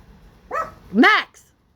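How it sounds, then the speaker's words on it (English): Dogs at home bark in a short burst: a small yip followed by a louder, longer bark, then a brief faint sound trailing off into quiet. "I'm sorry about my dogs barking."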